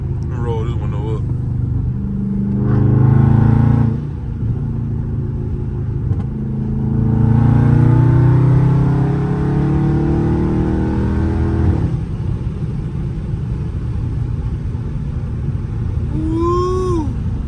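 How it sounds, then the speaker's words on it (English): An extremely loud Dodge Charger Scat Pack engine rumbles and revs in two loud surges, with wind and cabin noise in between and a brief high squeal near the end. "Hopefully y'all can hear the car"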